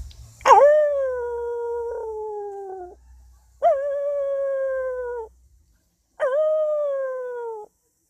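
A man on stage at a talent show imitates a wolf, giving three long, clear howls that rise sharply then hold and slide down slowly, separated by short pauses.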